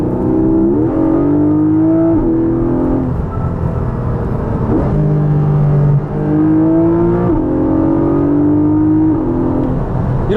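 Porsche Boxster GTS 4.0 with its naturally aspirated six-cylinder engine revving, loud and close, the pitch climbing and falling through several rising sweeps with a deep resonant tone.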